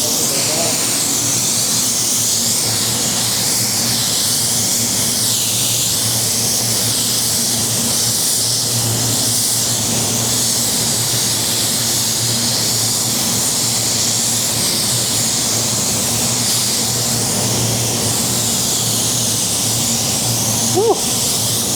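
Spray gun spraying paint in a continuous loud, close hiss that fills the whole stretch with a steady airy rush, with a low hum underneath and no talking over it.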